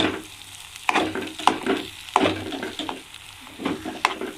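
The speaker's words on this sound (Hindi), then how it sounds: "और इसको मिक्स कर देंगे।" Semolina halwa with chopped almonds being stirred in a pan, close spoon scrapes and knocks every half second or so over a soft sizzle, uneven rhythm, no voices.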